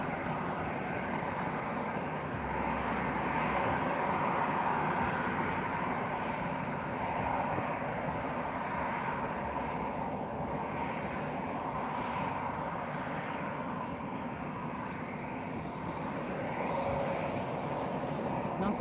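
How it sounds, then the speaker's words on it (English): An airliner taking off at Lisbon Airport gives a sustained, distant jet roar, a broad rumble that swells slightly and stays steady. "The takeoff proceeds."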